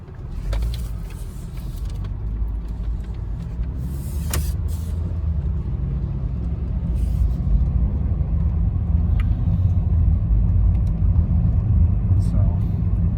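A 2013 Honda Fit drives along, its low road and engine rumble building gradually, with a few clicks and knocks early on and a voice speaking over it at points.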